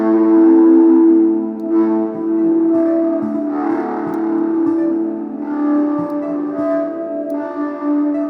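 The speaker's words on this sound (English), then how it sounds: "you can like hear that actual piano part go through as a reverb" A piano chord progression run as a convolution reverb in Ableton Live 11 produces washy, smeared sustained tones with shifting swells and an echoing, diffuse tail, with no voices.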